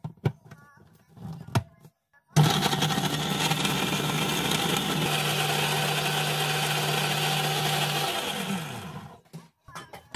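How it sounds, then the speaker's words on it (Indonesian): A kitchen blender whirs loudly for about seven seconds while grinding onion and chili with a little water, starting abruptly after a few soft handling clicks and winding down at the end. "Nah, ini kita blender terlebih dahulu."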